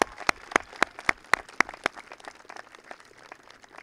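Scattered hand claps ring out at a graduation ceremony, a handful of sharp, distinct claps in the first two seconds that thin out into faint, sparse clapping.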